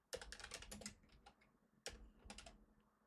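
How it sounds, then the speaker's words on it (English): Rapid keystrokes on a computer keyboard in two quick bursts separated by a short pause, clicking close and crisp at a low overall level, with no talking. "Typing is hard, yo."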